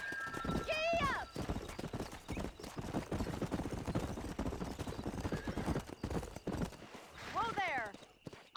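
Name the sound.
horse galloping in video game Red Dead Redemption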